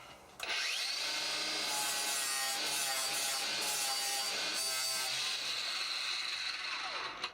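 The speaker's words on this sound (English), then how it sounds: "Bosch GWS 18 volt battery angle grinder. Let's try it with the abrasive pad on." Bosch GWS 18-volt cordless angle grinder fitted with an abrasive pad, spinning up and grinding steadily with a loud, high whine and scraping texture for about seven seconds before winding down.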